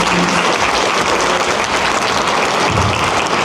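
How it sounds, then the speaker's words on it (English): An audience at a speaking event bursts into a round of applause, a dense, steady wash of clapping that stays loud and close from start to finish. "Let's give her a round of applause."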